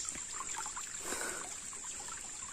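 Water trickles faintly at a hidden waterfall in the hills near Hyderabad, a soft, brief dribbling over a thin, steady high hiss with no voices.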